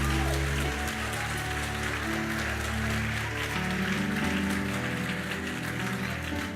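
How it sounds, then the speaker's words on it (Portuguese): A church congregation applauds during a worship service, a continuous dense patter of clapping under sustained organ or keyboard chords and a low musical drone. "dê glória a Deus e aplauda o Senhor Jesus"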